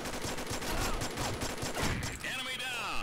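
Rapid assault rifle gunfire from the video game Combat Arms crackles in quick bursts, fairly faint, and a whining electronic tone rises near the end.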